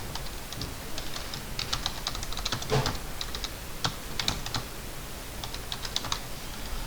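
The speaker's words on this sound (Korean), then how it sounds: "단축키 이제 키보드는 F5번 한번 눌러보세요" Keys clatter on a computer keyboard during AutoCAD work, a run of crisp, close plastic clicks in irregular bursts with one heavier press near the middle, and no talking.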